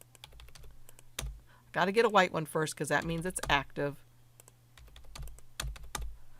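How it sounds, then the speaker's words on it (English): Clicks and taps on a computer keyboard while working in Cricut Design Space, sounding in quick, light bursts before and after a stretch of speech, with a steady low hum underneath. "I'm hitting delete on my keyboard"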